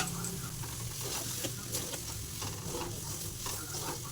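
Boiled eggs dropped into spice paste frying in oil for an egg curry, giving a steady close sizzle with light stirring and scraping throughout, no voices.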